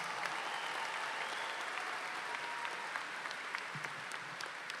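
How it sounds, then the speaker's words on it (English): A large crowd at a community college spring commencement ceremony applauds in a continuous, dense wash of clapping that holds steady for the whole stretch, with no speech over it. "Let's give Sami and Courtney another big round of applause."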